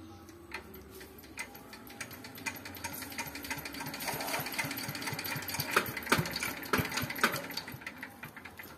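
Mud-clogged pond pump engine at a village pond, sputtering and struggling to start with rapid uneven mechanical ticking that builds in loudness and then falters, close by, no voices.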